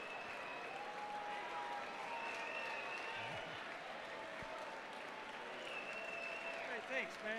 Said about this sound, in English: Let's get a nice round of applause for Danny Letts.